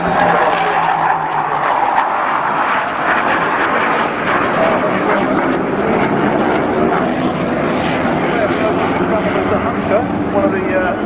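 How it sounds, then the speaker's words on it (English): A Hawker Hunter jet at the Clacton air show roars steadily overhead, a loud, continuous engine rush that holds for several seconds while a voice talks over it. "One of the most colourful planes you see at a display anywhere in the UK"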